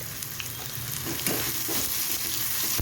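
Tempering of fried garlic and chilies with tomato, turmeric and red chili powder sizzling in hot oil, a loud continuous crackling fry with light stirring scrapes, close and unbroken, no voices.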